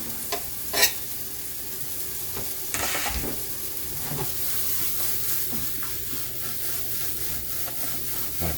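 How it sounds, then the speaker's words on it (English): Garlic hits a hot frying pan of Alfredo sauce base, giving a steady close sizzle with a few sharp stirring scrapes and clacks early on, no talking. "I'm going to go ahead and just add the garlic in"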